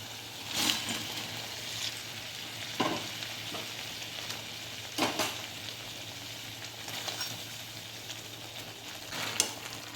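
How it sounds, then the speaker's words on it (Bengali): Fish roe cooking in a bubbling gravy in a pan, a continuous soft sizzle and simmer with a few sharp spoon clinks and stirring knocks scattered throughout, no voices. "তো গ্রেভিটা ফুটে উঠেছে, এবার আমি ডিমগুলো দিয়ে দিচ্ছি।"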